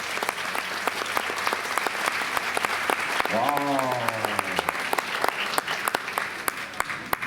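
Crowd applause rolls on steadily after a Hawaiian hula kahiko performance at an outdoor evening event, with sharp individual claps, a cheer, and a voice exclaiming over the clapping.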